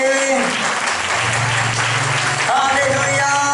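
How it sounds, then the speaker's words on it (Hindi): A church congregation claps loudly in praise during a Hindi sermon, a dense, steady roar of hands with musical tones ringing beneath. "एक बार जोरदार यीशु मसीह के लिए ताली बजाएंगे।"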